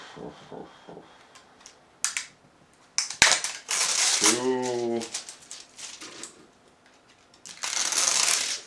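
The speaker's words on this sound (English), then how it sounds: "Let's take the stickers away." Stickers peel off the casing of an Asus Eee PC 1015PN netbook in several close, crackly ripping strokes, some short and one longer, with quiet talking and small handling noises between them.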